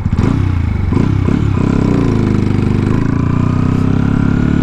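A Honda Monkey motorcycle's small engine runs close while riding, with a couple of quick throttle blips early on settling into a steady, buzzing drone.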